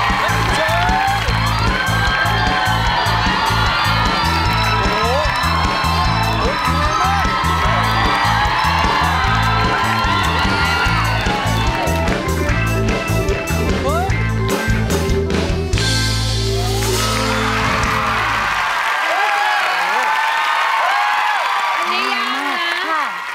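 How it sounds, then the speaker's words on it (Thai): A television singing-contest studio audience applauds and cheers loudly with whoops and shouts for a fire-walking stunt. Dense clapping rolls on steadily, with a host speaking over it, before the crowd noise thins out near the end. "ขอเสียงปรบมือหน่อยเลย"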